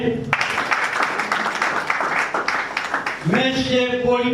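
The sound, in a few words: audience applause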